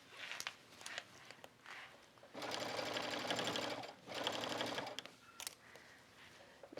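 A sewing machine runs a basting stitch through a knit sweater in two rapid, steady bursts of mechanical whirring and needle chatter, separated by a short pause and surrounded by quieter handling clicks.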